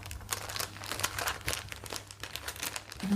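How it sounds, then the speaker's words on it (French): Glassine paper crumples and crinkles close up in a continuous dry rustle with sharp crackling bursts, heard alone. "Le son par exemple, le papier de cristal qu'on froisse. J'adore le bruit."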